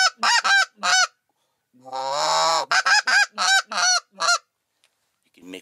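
Goose caller blown to imitate snow goose calls: a run of sharp, loud honks, then a longer drawn-out note, then more quick honks, close and clear with no talk.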